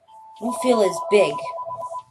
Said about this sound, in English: Oh, sorry, that's the phone.